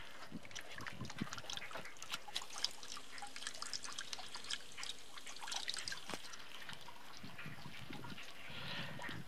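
Water leaks from a black hose solar water heater, spraying and trickling in quick, irregular splashes and drips, quiet and close, with no speech.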